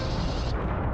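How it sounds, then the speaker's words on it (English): A spaceship blows apart in the Star Wars Genesis mod for Starfield, a single dense, loud blast of rumbling noise lasting about a second. "Okay, ship's destroyed."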